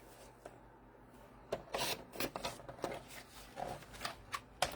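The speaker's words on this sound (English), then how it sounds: "we can just take that, trim that off right there." Paper being trimmed for a tea party themed junk journal, a run of short, close rasping cuts and rubs in an uneven rhythm over a quiet background.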